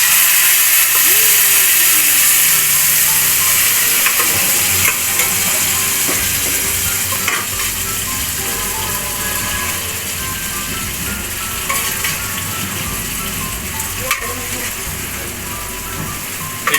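Mung beans added to a hot pot and stirred while cooking for a vegan monggo dish, giving a loud continuous sizzle and hiss with scattered scraping clicks from stirring throughout.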